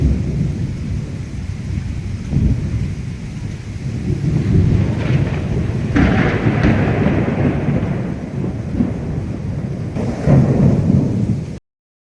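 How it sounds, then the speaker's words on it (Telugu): A thunderstorm over Visakhapatnam brings heavy rain with deep rolling thunder rumbling in several swells over a constant loud hiss of rain, without speech, cutting off abruptly at the end. "ఉరుములతో వర్షం కురిసింది."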